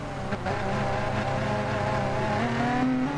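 Race cars in Gran Turismo Sport, touring cars including a BMW, roll out onto the track with a layered, humming engine drone whose pitch climbs steadily near the end as one car accelerates.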